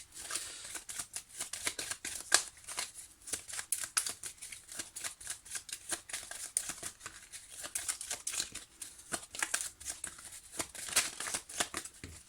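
Tarot cards are shuffled steadily for a monthly reading, a rapid, continuous papery riffling and flicking close up, moderately quiet and without talk.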